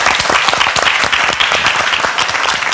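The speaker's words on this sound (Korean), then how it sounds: "우리가 강의 박수로 청해" A studio audience applauds a lecturer at a televised New Year's talk on dementia prevention: loud, dense, sustained clapping from many hands throughout, with no voices over it.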